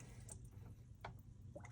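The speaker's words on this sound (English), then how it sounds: "Putting a comic book in water." A comic book is lowered into a bath of water, giving a few soft splashes and trickles, quiet and close against a low background hum.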